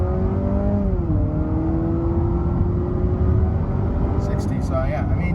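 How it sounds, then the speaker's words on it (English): Honda CR-V TrailSport compact hybrid SUV under wide-open-throttle acceleration, a steady engine drone rising slightly in pitch alongside road and wind noise, heard from inside the cabin, with brief faint clicks near the end. "I'm gonna give it a little wide open throttle"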